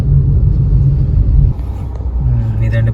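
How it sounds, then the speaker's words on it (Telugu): Heavy holiday traffic on the highway from Hyderabad to Tanuku, heard from inside a car as a loud, continuous low engine rumble with a brief dip midway. "ఇదండి పరిస్థితి. చాలా కార్స్ అయితే ఉన్నాయి."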